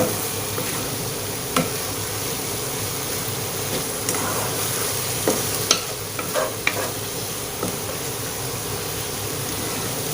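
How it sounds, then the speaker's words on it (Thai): Fermented fish (pla ra) stir-fried with pork for an Isan pork and pumpkin curry, a loud, continuous sizzle and rustle with scattered clicks and scrapes of the spatula, no voices. "ปลาร้าลงไปผัด ลงไปคั่วกับเนื้อหมู"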